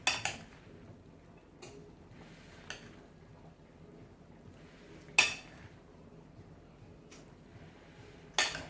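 A spoon stirs pasta salad in a bowl, giving sparse clinks and scrapes against the dish at irregular intervals over a quiet background.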